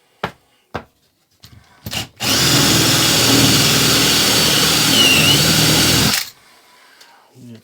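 A Parkside power sander works an MDF board, starting after a few short knocks and handling noises, then running loud and steady for about four seconds of gritty whirring and rubbing before cutting off abruptly.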